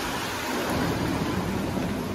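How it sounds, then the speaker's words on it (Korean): Heavy rain pouring down at night outside a hotel in Whistler, Canada, a dense, loud, steady roar that fills the short stretch without a break or any voices. "어, 비 엄청 오는데?"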